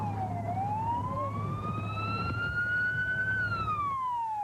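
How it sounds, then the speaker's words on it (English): An emergency vehicle siren wails in a rising and falling sweep at the scene of a big rig pileup in the Sierra mountains, steady and fairly loud over road rumble. "Sirens echoing through the mountains tonight after this huge pileup in the Sierra."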